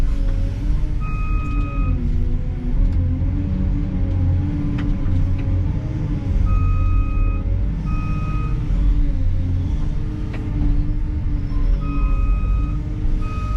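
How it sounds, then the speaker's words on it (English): A construction machine at a demo day for pond dam building gives repeated reversing beeps in regular pairs over a loud, constant engine rumble, with no talk. "That beep's irritating."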